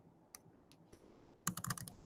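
Quick bursts of keystrokes on a computer keyboard during a Python coding session, a few scattered taps then a close, rapid run of typing near the end, with no talking.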